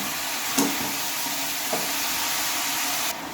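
Cabbage with turmeric and salt cooks in a pan for a vegetarian dish, a soft steady sizzle marked by two light knocks of a spoon being stirred through, with no talking.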